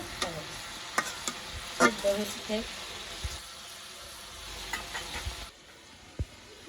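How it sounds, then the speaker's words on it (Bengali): Chopped onion fries in hot oil with tempering spices, a steady close sizzle broken by repeated scrapes and clinks of a stirring spoon, with faint voices in the background before the sound drops away near the end. "একটু ফোড়ন দিছে আর পেঁয়াজ ভাজা দিছে, মানে পেঁয়াজ কুচি দিছে আর কি"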